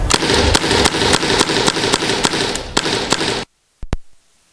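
A CO2 gas BB gun fires off a rapid burst of about a dozen loud, sharp pops close by, then stops abruptly, with two quick final shots after a brief pause as the gas runs out.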